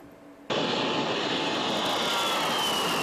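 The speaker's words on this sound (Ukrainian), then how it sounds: "Уперше у повітря новий літак Ан-178 здіймається зі злітної смуги ДП Антонов" An Antonov An-178 transport aircraft takes off from the Antonov company runway on its first flight, its engines surging into a loud, steady roar after a quieter opening.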